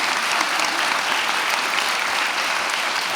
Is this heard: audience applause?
yes